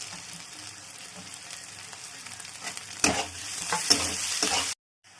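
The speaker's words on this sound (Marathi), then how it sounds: "आता मी कढीपत्ता टाकते आणि मिरच्या टाकत आहे।" Curry leaves and green chillies dropped into hot oil for poha, a soft steady frying hiss that swells into louder crackling spatters toward the end before cutting off abruptly.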